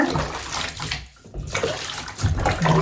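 Water pours steadily into a tub while a cat's bath water is being changed, a continuous splashing rush with a brief dip in the middle before the flow resumes close by.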